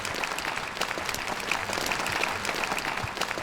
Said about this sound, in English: how about another big round of applause for both of these warriors